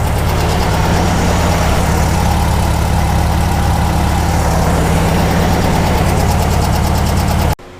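A 1600cc DP engine, freshly valve-adjusted, runs steadily at idle with a loud, even low rumble and dense mechanical clatter, cutting off abruptly at the very end.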